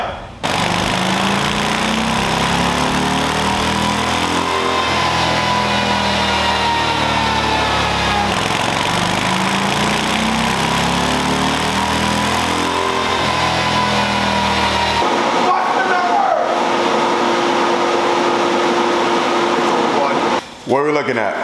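A 2024 Harley-Davidson Low Rider ST V-twin engine roars loudly and steadily on a dyno during a stock base run, holding a sustained high-revving drone for about fifteen seconds before dropping off to a lower idle rumble.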